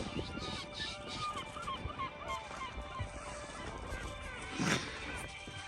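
Seagulls crowd around a fishing boat out on a coral-fish trip, their overlapping honking squawks dense and continuous over steady engine and sea noise, with one louder call rising near the end.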